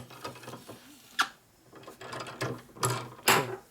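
A motorcycle rear wheel on a 1988 Harley-Davidson FXR is spun by hand during clutch and primary repair, giving a series of mechanical clicks and ratcheting whirs in short bursts, fairly close and moderately loud.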